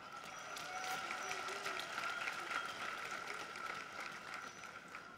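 Kariakoo traders at a government meeting in Dar es Salaam break into sustained, dense applause that swells and holds, filling the room with crowd noise and scattered voices.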